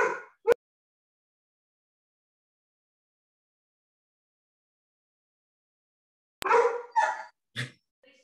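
A pet dog barks several times in a home during a public hearing: one sharp bark, a long silence, then a burst of three or four louder barks close by.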